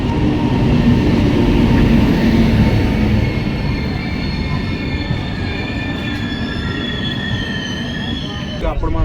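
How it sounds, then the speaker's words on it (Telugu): The Navajeevan Express pulls into a station, a loud close rumble of wheels with drawn-out high squealing from the rails as it slows, sustained throughout. "వచ్చేసింది నవజీవన్ ఎక్స్ప్రెస్."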